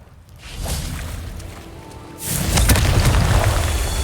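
Confringo explosion spells fire in the Hogwarts Legacy video game, a rumbling whoosh that swells and then gives way to a louder, sustained blast.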